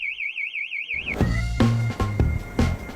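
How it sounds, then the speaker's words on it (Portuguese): An oversensitive warbling electronic car alarm, set off by passing buses or trucks, wails for about a second, then cuts off, followed by a few loud clunks and thumps. "Alarme disparando com facilidade."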